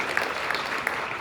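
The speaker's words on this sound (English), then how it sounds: "That's worth an applause, definitely." An audience at a sci-fi convention Q&A with Robert Patrick in Stockholm breaks into applause, a dense even clatter of many hands with a few sharper claps standing out, sustained and fairly close.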